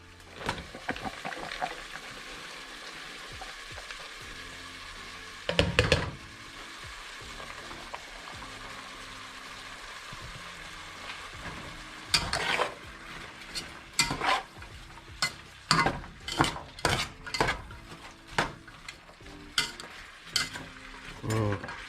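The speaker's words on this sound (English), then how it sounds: "add your veggies. We kind of want them to cook together. So we're going to add them in there, mix that up real good." Veggies cooking in a cheese dip on the stove, a low steady sizzle broken by a spoon stirring and scraping the pan, with sharp clatters and scrapes bunching up toward the end, close and moderately loud.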